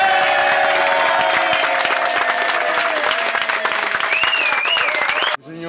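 An audience applauds on cue during filming, producing a loud, dense burst of sustained clapping with a thin whistle-like tone rising above it, before the sound cuts off abruptly near the end.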